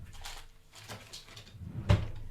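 A kitchen drawer shut with a single solid thud near the end, over a low steady room hum.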